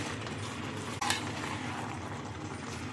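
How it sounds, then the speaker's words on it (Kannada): Cooked rice is stirred into vegetable palav in a pot, giving a soft continuous scraping and rustling with one sharp clink of the spoon against the pot about a second in. "ಈಗ ಬೇಯಿಸಿ ರೆಡಿ ಮಾಡಿ ಇಟ್ಕೊಂಡಿದ್ದ ರೈಸ್ ಹಾಕ್ಕೊಳ್ತಿದ್ದೀನಿ. ಇದನ್ನು ಒಂದ್ಸಲ ಚೆನ್ನಾಗಿ ಮಿಕ್ಸ್ ಮಾಡ್ಕೊಳ್ಳುವ"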